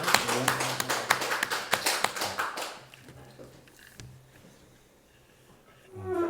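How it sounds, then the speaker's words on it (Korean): A church congregation at a Sunday worship service gives loud, brisk applause for nearly three seconds. The clapping then thins into scattered quieter claps and room noise. "우리 하나님께 영광의 박수 드리겠습니다"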